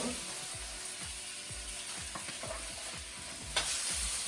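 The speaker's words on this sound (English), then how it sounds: "So the onions have been now frying" Steady crackling sizzle of two chopped onions frying in oil, with repeated scraping strokes of a spatula stirring the pan and one sharper clack near the end.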